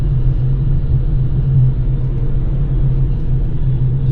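Steady low rumble of many cars moving along an expressway in the NCR region, a continuous dense traffic drone with no distinct passes standing out and no voices.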